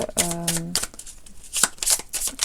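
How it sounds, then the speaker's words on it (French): Tarot cards are shuffled and drawn in quick riffling bursts, a crisp flurry of card snaps interleaved with a person talking in between. "On va prendre 3 cartes."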